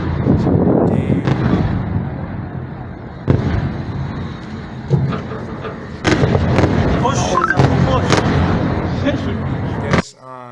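Missile strikes ring out as a dense run of booming blasts and crackling bursts, loud and continuous, with sharper impacts standing out at intervals.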